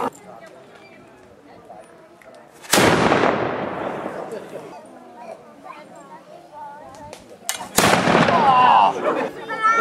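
Two loud booming shots from an old muzzle-loading black-powder handgun ring out several seconds apart, each with a long rumbling decay, amid people chatting nearby.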